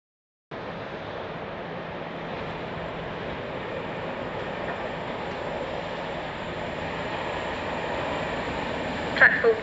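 A Class 37 diesel locomotive passes at night, a steady broadband rumble that rises and holds for several seconds, fairly distant and unbroken, with a couple of faint knocks near the end.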